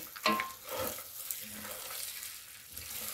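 A spoon stirring a rice filling with spices in a frying pan: a sharp scrape at the start, then soft sizzling and occasional scraping strokes, fairly close and steady.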